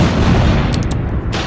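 Artillery fire in the war video game Foxhole makes a loud, continuous wash of booming blasts and rumbling low noise. The sound stays dense and sustained throughout, with faint crackling bursts on top.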